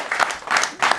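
Studio audience applause at a late-night talk show, rising in three short loud bursts within a second, each swelling and easing back.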